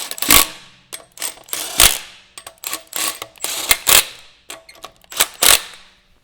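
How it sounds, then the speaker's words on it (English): Impact wrench lightly snugging wheel lug nuts on a 200 Series Toyota Land Cruiser during a rear brake pad and rotor job, firing in short repeated rattling bursts, close and loud, with brief pauses between nuts. "I'm just going to lightly snug these with the impact, because I'm going to come back and torque them once it's on the ground"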